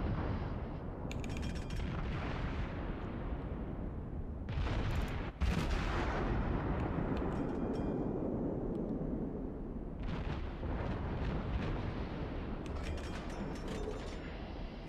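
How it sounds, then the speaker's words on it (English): Heavy naval guns of the Russian cruiser Mikhail Kutuzov boom in World of Warships, several loud salvos spaced seconds apart with rumbling tails between them, heard alone without talk. "we'll get our front guns operational here"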